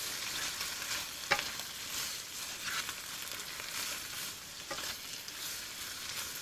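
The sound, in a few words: stir-frying pak choy with prawns and oyster sauce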